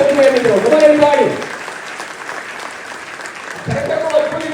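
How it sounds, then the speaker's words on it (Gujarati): An audience breaks into brief loud applause at a Surat Police initiative event, then the clapping fades beneath someone talking before another short burst returns. "જોરદાર તાળીઓ હવામાં ઉછાળીને બોલવું એ મિત્રો"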